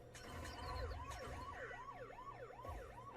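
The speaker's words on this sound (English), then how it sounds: "Listen to your sirens." Video game sirens wail, rising and falling in a repeating pattern over a low engine rumble, with a few short clicks and blips in the mix.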